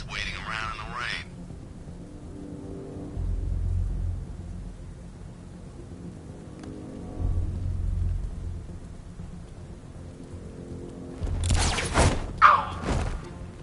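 Rain and thunder in Batman: Arkham Knight, with heavy low thunder rumbles rolling in at intervals over a steady rain hiss, and a couple of sharp bursts near the end.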